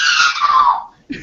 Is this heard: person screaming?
yes